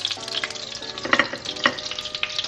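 French toast sizzling as it hits a hot pan, a loud, dense crackling fry with small pops and a few scraping touches, close up and steady.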